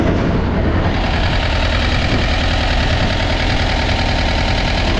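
A motorcycle engine runs steadily at idle during a clutch test, where the clutch is not fully disengaging; the loud, close, continuous drone carries a faint knocking pulse with no speech.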